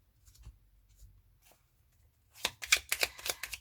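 A deck of tarot cards shuffled close up, a rapid burst of riffling flutters after a few quiet soft rustles and taps, no talk.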